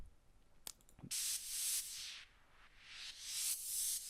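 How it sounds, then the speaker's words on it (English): Loud, hissing white noise swells and recedes with a sweeping, whooshing flanger effect, after a few brief clicks at the start. "I had like no clue about putting a flanger on white noise"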